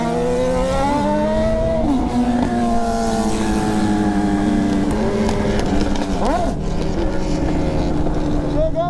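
Honda CB1000 motorcycle fitted with a new exhaust, its engine droning steadily and loudly with pitch rising and falling as it revs, recorded up close while riding on a street, with wind noise throughout.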